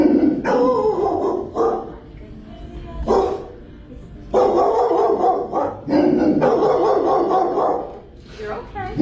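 Several dogs bark repeatedly in the dog intake area of an animal adoption center, with loud, echoing bursts separated by brief lulls and background music, and a person speaks softly nearby.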